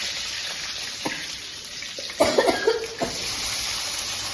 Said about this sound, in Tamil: எண்ணெய் காஞ்சோடனே பட்டை, கிராம்பு, ஏலக்காய் இது மூணும் போட்டுக்கலாம்